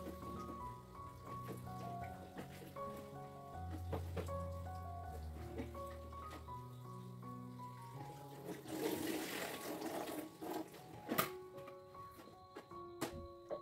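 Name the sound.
washing water spinach and chilies under running water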